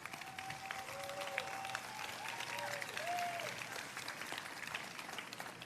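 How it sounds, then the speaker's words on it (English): An outdoor crowd at a public ceremony designating the Stonewall Inn applauds in a steady, moderately distant wash of clapping, with a few brief whistles and cheers rising above it. "So let's give those here in 1969 that round of applause, and those who are carrying this march forward."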